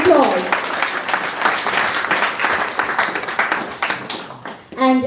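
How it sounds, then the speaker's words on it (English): Audience applause during a spiritual class gathering: lively clapping from a group of people, with a voice speaking briefly at the start and again as the clapping fades. "So let's give Prabhu another round of applause."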